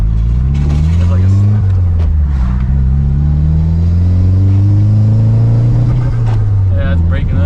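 Loud, close engine revving through the exhaust of a Nissan 240SX or 300ZX, with rising and falling drone and crackles, while people talk over it.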